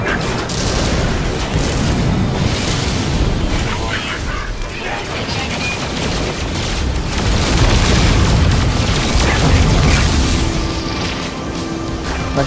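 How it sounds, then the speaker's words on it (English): A space battle in No Man's Sky rages with repeated booming explosions and rapid laser weapon fire, dense and loud throughout, with some talking mixed in. "My ship's phase beam and photon cannon seem like dangerous weapons, inflicting heavy damage through an array of coloured beams and bright flashes of laser shots"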